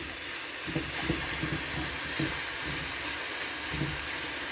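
Vegetables stirred in a skillet, a steady hissing sizzle with a few soft scraping knocks of the stirring utensil, close up, with no talking.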